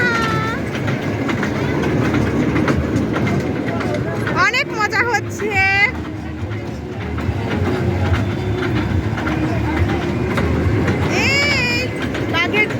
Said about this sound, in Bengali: এই বাঘের ট্রেন, এই প্রথম দেখলাম বাঘের ট্রেন